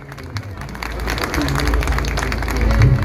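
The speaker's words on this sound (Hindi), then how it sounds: "तो मेरे दोस्तों जोरदार तालियां एक बारी" Audience applause at an evening event honouring martyrs on a martyrs' day commemoration, a broad wash of clapping from a large crowd that builds steadily and stays loud, with crowd murmur mixed in.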